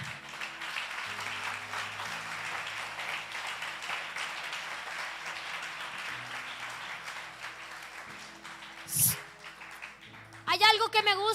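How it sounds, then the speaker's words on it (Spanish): Applause from a church congregation fills the space, moderately loud and sustained, then fades out before a brief sharp noise and a voice begin near the end. "dele un fuerte aplauso."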